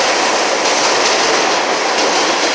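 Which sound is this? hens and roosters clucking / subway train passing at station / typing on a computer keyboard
subway train passing at station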